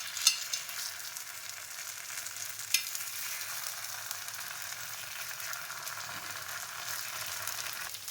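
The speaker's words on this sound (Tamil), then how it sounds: "எண்ணெய் விட்டுட்டு இதை நான் மாவு கொஞ்சம் கொஞ்சமாக ஊற்றுறேன்." Sorghum and pepper paniyaram batter fries in an oiled paniyaram pan, giving a steady, close, hissing sizzle with a few sharp pops near the start, and no one speaking.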